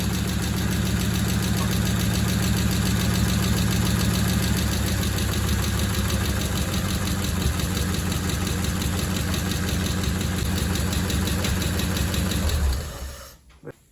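A steady, close engine idle from an OG 21 stud engine, smooth and even for a long stretch before it shuts off and fades out near the end.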